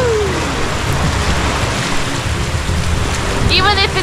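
Steady rain pours around a boat on a tour among the rock formations of El Nido, Philippines, a dense continuous hiss, close and loud, with a faint voice near the end.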